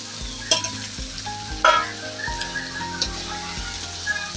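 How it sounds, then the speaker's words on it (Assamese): Duck meat sizzles and crackles as it is stirred over an open wood fire outdoors, with a steady frying hiss broken by sharp scraping clanks of the utensil against the pot. "ইফালে কাকা জুইত হাঁহ মাংস ৰান্ধি আছে"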